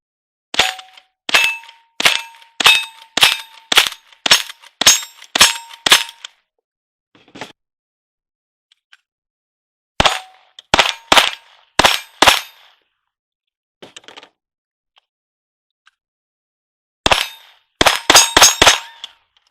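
Gunfire ringing off steel targets during Wild Bunch cowboy shooting with .22s, sharp cracks each followed by a metallic clang, fired in quick strings of eight or so, a pause, another string, then a final rapid volley, loud and close.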